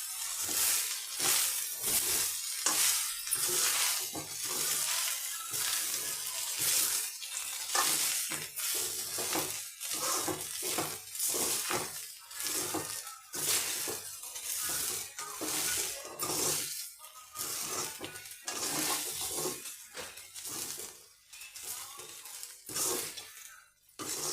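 Salted rice tossed in a pan with a spatula, giving a steady run of quick scraping and stirring strokes with light pan clatter, moderately loud and uninterrupted.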